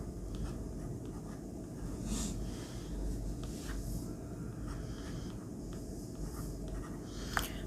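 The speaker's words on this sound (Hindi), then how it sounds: "मैं लिख देता हूँ यहाँ पे" Faint, quiet scratching of a pen or marker writing on a board in a classroom, soft irregular strokes against a low room hiss, with no talk.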